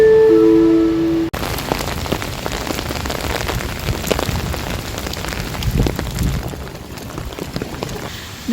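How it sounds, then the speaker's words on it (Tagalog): Heavy rain pours down on a rainy morning in Canada, a dense, steady patter of drops hitting surfaces. It starts right after a short tonal sound at the beginning and holds fairly loud to the end. "Ang lakas ng ulan dito."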